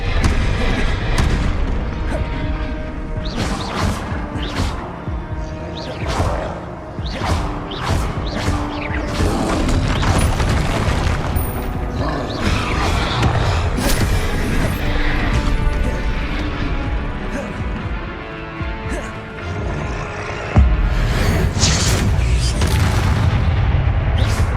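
Fiery spell blasts from Hogwarts Legacy combat on PlayStation 5, a relentless barrage of booming explosions and crashing impacts layered over one another, loud and close for the whole stretch, with another heavy hit near the end.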